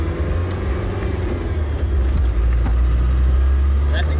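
A 1994 Land Rover Defender engine runs steadily, a loud, close, deep rumble that holds even throughout, with a voice faintly present over it.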